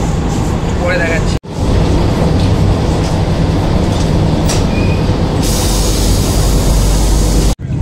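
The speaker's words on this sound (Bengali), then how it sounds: "বারসোই জাংশন ছেড়ে আমাদের ট্রেন এনজিপির দিকে যাচ্ছে" Onboard the Vande Bharat Express running from Howrah toward NJP after leaving Barsoi Junction, a loud continuous rumble of wheels and carriage fills the cabin, with brief metallic squeals and voices underneath.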